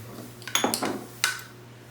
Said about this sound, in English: Jordy's gonna go ahead and keep on mixing